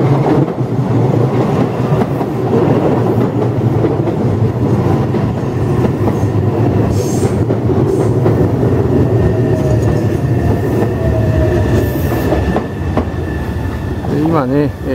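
A Meitetsu Inuyama Line train rolls into Inuyama-Yuen station, a loud, steady rumble of wheels on rails with clicks and a brief high wheel squeal near the end, someone talking quietly over it.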